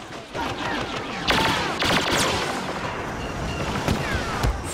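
Rapid gunfire from a blaster rifle in the Star Wars Battlefront video game, a dense barrage of overlapping shots and sharp bursts with explosive booms, loud and continuous throughout with no talking.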